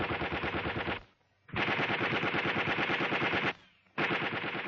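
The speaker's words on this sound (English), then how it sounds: "The enemy now has the area under close observation and are firing at anything that moves." Machine gun firing long rapid bursts in a World War II British Army infantry training film, each burst a loud dense rattle of shots lasting about a second or two, separated by brief silent gaps, with no voices.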